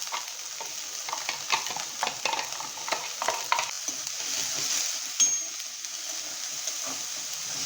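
Finely chopped onions sizzle and crackle while frying in a pan for palak paneer bhurji, with scattered stirring clicks through a steady hiss and no talking.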